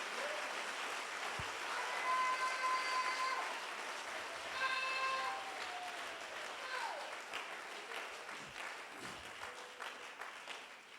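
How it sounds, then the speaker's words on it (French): Church congregation clapping together during a service, a steady patter of many hands at moderate volume, with faint tonal sounds and a few louder knocks mixed in over roughly ten seconds. "So give a clap offering to the Lord"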